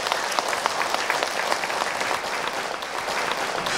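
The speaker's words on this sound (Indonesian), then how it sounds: "Tepuk tangan dulu, Bu" Audience applause at an Islamic religious lecture fills the whole stretch, a dense, steady patter of many hands clapping, loud and continuous with no speech over it.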